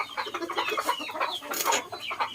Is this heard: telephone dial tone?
no